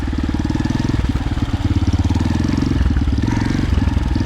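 An enduro motorcycle engine runs steadily nearby on a fishing trip, a loud, even throbbing with rapid regular pulses and slight rises in revs throughout.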